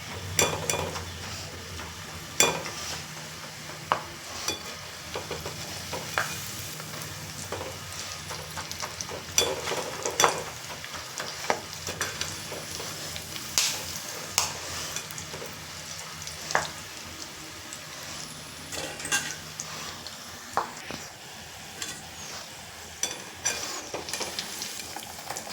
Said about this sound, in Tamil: இப்போது இந்த கரண்டியால் இப்படி குத்தி விட்டிங்கன்னா சேர்ந்த வேர்க்கடலெல்லாம் கூட பிரிஞ்சு வந்துடும்